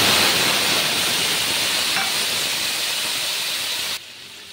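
Mustard paste made from mustard powder, raw mustard oil, salt and turmeric hits hot oil for a mustard prawn dish, giving a loud, steady sizzle and hiss that holds for several seconds before abruptly dropping off.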